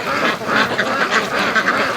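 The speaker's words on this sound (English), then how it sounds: "Come on, ducks, let's go to the lake." Free-range ducks quack in a rapid, overlapping chorus, loud and close, several birds calling in quick succession over a short burst.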